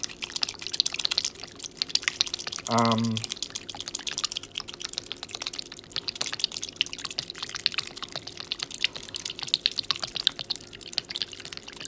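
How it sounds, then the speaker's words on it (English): Milk is poured over thinly sliced potatoes for a potato bake, making a dense, continuous patter of small drips and splashes that stays fairly even throughout. "You keep the milk going until the potatoes are covered."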